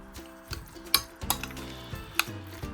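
Guacamole being mixed with black pepper in a bowl: a few sharp utensil clinks and scrapes against the bowl over soft wet stirring, close and moderately loud, with no talking.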